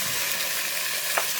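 Chopped onions and marinated keema mince sautéing in a pan, a brief continuous close-up sizzle with a single stirring scrape near the end.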